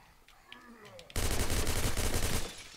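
Sustained burst of assault rifle fire from the zombie survival game State of Decay, loud and rapid, following a quieter stretch with faint game sounds, then tapering off.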